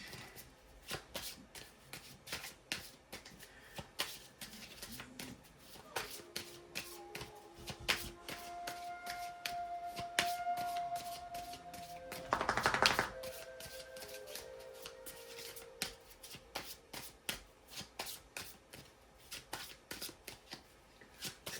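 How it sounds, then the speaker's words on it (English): Oracle cards shuffled by hand in a quiet room, a steady run of crisp riffling flutters and soft slaps with a brief denser burst midway, close and fairly faint, with no talking. "Let's get a card for our Watcher Spirit."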